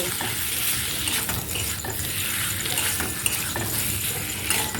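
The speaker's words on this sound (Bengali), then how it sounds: "পটলগুলো দিয়ে এক মিনিট মতন আমি আলুর সঙ্গে নেড়ে ছেড়ে নেব" Fried pointed gourd tossed with potatoes in a hot pan, a dense steady sizzle with scraping stirring strokes, close and loud.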